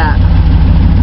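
A lifted 1996 Chevy 1500 pickup with straight pipes and no mufflers idles with a deep, steady rumble for about a second while someone talks over it.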